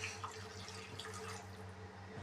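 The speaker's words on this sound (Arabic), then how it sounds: "هنحط كوبايتين ميه مغليين" Boiling water, about two cups, is poured onto uncooked pasta in a pan, giving a quiet, steady liquid trickle and splash at low level with no talking.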